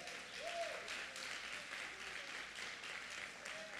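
Worshippers in a church clap for the Lord, a sustained but fairly quiet patter of many hands that swells slightly early and then holds steady, with faint tonal sounds in the background.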